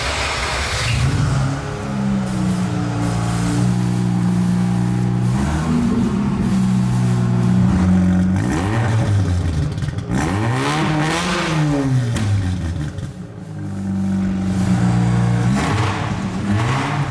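A Quadra V-Tech car engine idling and revving after a long period of disuse, with steady loud running broken by several rising and falling revs, heard alone and close.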